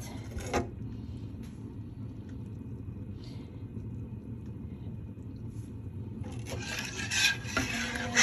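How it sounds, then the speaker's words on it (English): Custard for a Samoan pineapple pie being stirred in a pot: quiet, steady rubbing and scraping of a utensil against the pot under a low rumble, with a brighter clatter near the end. "So we just keep mixing our custard because we don't want to get lumpy."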